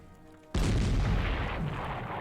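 Artillery in the wargame Panzer Corps fires one abrupt, heavy boom that hits hard and then rolls on as a long, broad rumble, with no voices.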